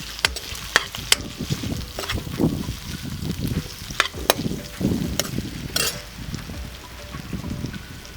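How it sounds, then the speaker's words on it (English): Sausage and onions fry and get stirred in a pan with a steady sizzle, while a spatula scrapes and clinks against the metal in irregular strokes throughout. Close and fairly loud, with no talking. "So first, I'll add our sausage and onions."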